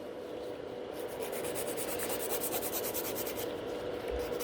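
A gel nail surface is filed and scratched to thin it during a rebalance, a steady, close, hissing rasp of continuous rubbing strokes with no talking.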